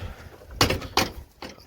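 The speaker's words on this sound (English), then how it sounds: "Come back and close that door." Door on an MCI custom coach closing in a cramped space against a fence, giving two close, sharp thuds about half a second apart and a softer knock after.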